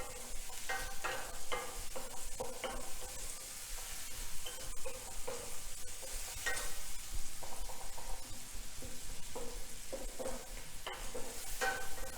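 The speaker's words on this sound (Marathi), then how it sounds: "कांदा चांगला भाजून घ्यायचा आहे" Onion sizzles steadily in a hot pan for a Marathi okra dish while a spoon scrapes and stirs it in repeated strokes, a continuous close frying hiss with no talking.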